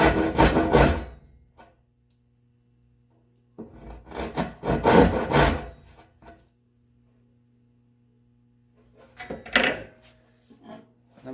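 A hand saw cuts through a walnut board in three separate bursts of rhythmic rasping strokes, each burst lasting a second or two with pauses between, close and fairly loud.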